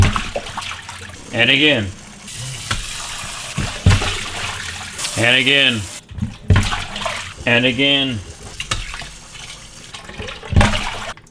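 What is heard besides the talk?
rice being rinsed in water for makgeolli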